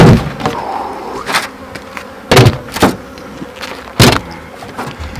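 Angry bees swarming around an apiary hive, loud buzzing close to the microphone with sharp swells as insects pass by, over a steady droning background.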